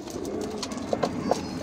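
A pet pigeon in a fancier's loft coos softly, with a few short low notes near the end over faint background rustling.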